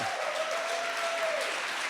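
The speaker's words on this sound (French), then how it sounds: "Est-ce qu'on peut faire un tonnerre d'applaudissements pour notre Dieu tout-puissant?" A church congregation applauding during a Sunday worship service: dense, steady clapping fills the whole moment, with a faint sustained voice-like tone running underneath.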